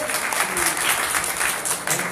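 Dense, continuous applause from an audience at a Punjabi literary poetry gathering, a steady wash of many hands clapping at once, close and loud, with some speech mixed under it.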